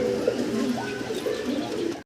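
Pigeons in a pigeon house coo continuously in low, burbling phrases that overlap into a steady, close chorus before cutting off abruptly.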